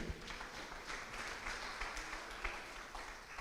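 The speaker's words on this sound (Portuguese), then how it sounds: "Aplauda o Senhor" A church congregation applauds during a sermon, a soft, somewhat distant patter of clapping that stays steady throughout.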